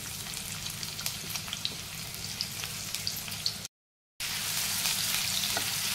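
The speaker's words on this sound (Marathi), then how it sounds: "तेल चांगलं तापल्यावरती एक बारीक चिरलेला कांदा घालायचा आहे" Finely chopped onion frying in hot oil in a kadhai, a close, even sizzle with small crackles that cuts out briefly, then resumes steady and slightly louder, with no speech.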